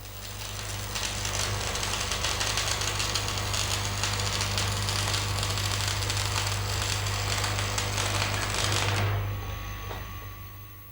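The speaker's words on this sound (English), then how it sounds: "Aim the electrode at the usual 70 degrees angle to the line of weld and upright" Stick electrode arc welding, a steady crackling buzz with a low hum that holds for about nine seconds before the arc breaks and fades, near and fairly loud, no voices.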